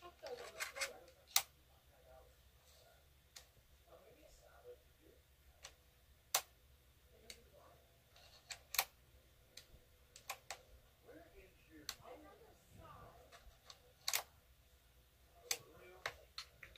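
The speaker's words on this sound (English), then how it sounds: "that's just the sound of it magneting into the computer itself" A detachable laptop part snapping magnetically into the computer body, heard as sharp, faint clicks scattered through a quiet room with soft handling noise between them.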